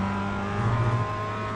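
Mazda MX-5 engine in iRacing sim racing at Okayama short circuit, a steady low drone that swells briefly as it revs in the middle, then settles back to a constant hum, heard alone.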